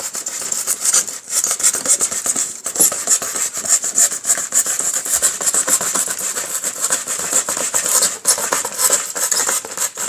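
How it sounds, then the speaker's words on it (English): Steady back-and-forth rasping of a blade sawing through styrofoam, rhythmic rubbing strokes close to the microphone with no talking. "So you have to almost use a sawing motion."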